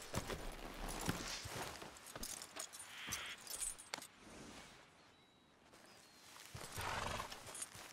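Horse in Red Dead Redemption 2 clip-clopping on hooves with jangling tack, plus a brief neigh, close and fairly quiet with no talk.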